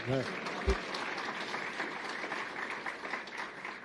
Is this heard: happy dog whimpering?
no